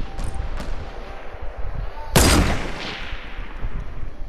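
Gunfire in Fortnite cracks out in a short burst over a continuous rumbling game background, with one loud sharp shot standing out in the middle.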